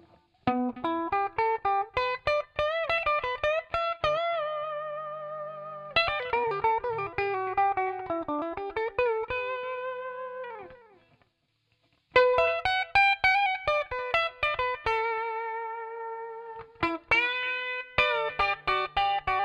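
Clean electric guitar chords and picked notes with a smooth compressed attack, shimmering chorus and echoing delay tails, playing alone with a brief pause midway.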